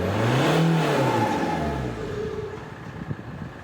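A 1.9 CDTI Z19DTL diesel engine in an Opel Zafira B with a suspected turbo fault revs up and settles, a low droning rise and fall followed by a steadier idle rumble with small knocks, close and moderately loud.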